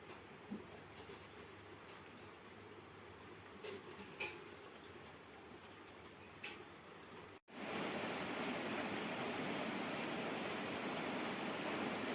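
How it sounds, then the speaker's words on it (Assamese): Rain hisses steadily at first with occasional drips, then after a brief cut a much louder, denser downpour roars close by without pause. "ইমান ডাঙৰ বৰষুণ দিছে"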